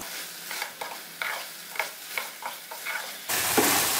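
Marinated chicken tikka pieces fry in a pan, soft rhythmic stirring scrapes over a quiet sizzle, then the frying suddenly swells to a loud, bright hiss near the end.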